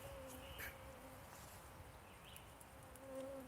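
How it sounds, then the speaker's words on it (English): Mosquitoes buzzing in conifer woods at Fort a la Corne: a thin, steady insect whine with faint tonal drones rising and falling, quiet and close, with no talk. "And the mosquitoes are just wonderful in here."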